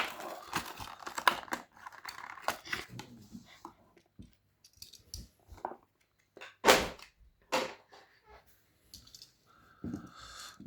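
Plastic blister packaging of a diecast toy car being torn and crinkled open, a run of sharp crackles, snaps and rustles close by, with a few louder pops and quieter gaps between handling sounds.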